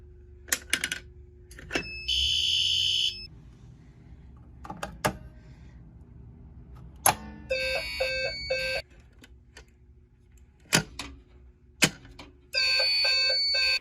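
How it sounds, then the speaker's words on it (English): A fire alarm sounds after being pulled, with loud, steady electronic tones in repeated bursts and sharp clacks and knocks between them. "This is what it looks like to pull a fire alarm."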